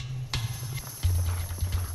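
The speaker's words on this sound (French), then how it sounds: "à quelle figure Alexis et son cheval Fado sont-ils en train de se préparer" A horse's hooves clip-clop on the ground during an equestrian show in Paris, a handful of uneven, fairly faint hoof strikes over a low steady rumble.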